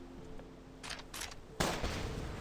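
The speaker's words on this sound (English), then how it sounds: "So we should hear an explosion sound effect as if it was right in our ears." A loud, close explosion effect from a video game in development, where a gun is being built, bursts out suddenly after a couple of brief sharp cracks and leaves a rumbling roar to the end.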